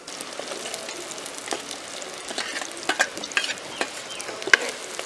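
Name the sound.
fish frying in a pan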